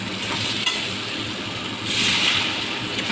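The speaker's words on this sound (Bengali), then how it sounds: "ভালো করে টমেটোগুলোকে খুন্তি দিয়ে ঘেঁটে ঘেঁটে দেবো।" Steady sizzling and frying of tomatoes with turmeric, chili powder, salt and a little water as a spatula stirs them in a pan, a continuous close hiss with occasional scraping, without speech.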